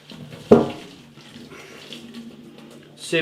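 Cooked instant ramen noodles in chicken broth tipped from a pot into a sieve, one sudden splash of water followed by a soft trickle and a second gush at the end, close by.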